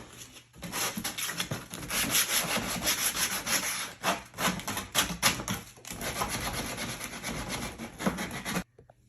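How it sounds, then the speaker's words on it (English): Sandpaper is rubbed by hand over the edges of a plastic bin in quick, close, scratchy strokes. The rasping runs nearly continuously for about nine seconds and then stops abruptly. "Okay, we've sanded all the edges just to get them smooth"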